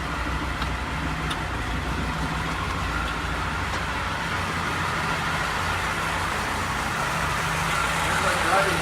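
A Lancia Flavia engine turns over and idles with a steady low hum and rumble, fairly close and continuous throughout, with a few faint clicks near the start.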